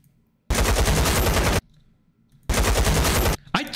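Two long bursts of rapid automatic rifle fire from the S.T.A.L.K.E.R. 2 video game, loud and close with a brief metallic ching at the very end.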